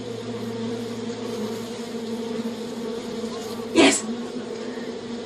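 Bees buzz in a steady, sustained drone throughout, with a brief louder burst near the end as one passes close; a voice speaks briefly.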